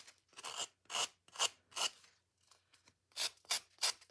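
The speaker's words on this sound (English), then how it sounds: "So let's get this block out. And we're just going to sand." Sanding block rubbed by hand over a scrap-wood Christmas ornament, giving rhythmic rasping strokes in bursts of about half a second, close and fairly loud, with a brief pause mid-way before the strokes resume.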